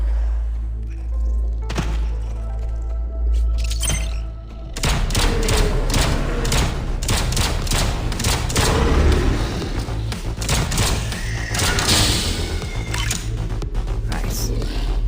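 A grenade blast in the VR shooter Into Black goes off with a sudden heavy thump, followed by a dense burst of cracks, debris and rumble, while voices talk over the commotion.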